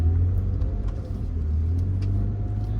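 A car drives along with a steady, close engine drone and low rumble, the pitch dipping briefly before holding even, with no one speaking.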